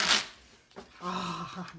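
A brief burst of Tarot of Gnomes cards being shuffled at the start, then a voice speaking over quieter handling.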